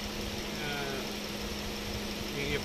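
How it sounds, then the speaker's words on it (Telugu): A Swift Dzire car engine idles smoothly after a carbon-cleaning injection treatment, a steady close hum with a constant low tone and no breaks. "ఎస్, సో ఇంజన్ నాయిస్ ఇప్పుడు ఎంత స్మూత్గా ఉంది."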